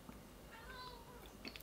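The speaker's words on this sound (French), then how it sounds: "Mais elle a fini de miauler." A short, soft cat meow rises briefly over quiet room noise, with a faint voice nearby.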